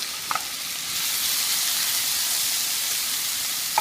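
Leeks sauté in a pan with apples tipped in, a steady broadband sizzle rising as the fruit hits the hot pan, with a couple of faint clicks near the start and end.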